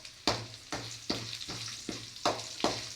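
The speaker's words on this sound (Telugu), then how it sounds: "ఇప్పుడు కొంచెం తెల్లగడ్డ వేస్తున్నాను." Garlic dropped into hot oil in a frying pan alongside fried dal, for Rayalaseema-style karam to go with ragi sangati, sizzling steadily with a rhythmic series of sharp stirring bursts, close and moderately loud.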